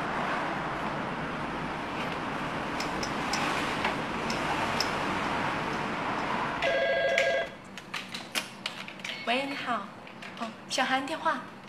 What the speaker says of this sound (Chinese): 小韩电话